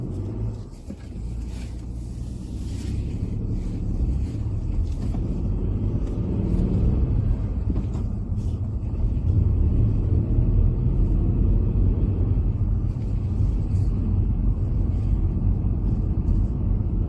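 A car pulls away and drives on during a mock driving test on a Chertsey test route, with a steady, close engine and road rumble building gradually and continuing throughout.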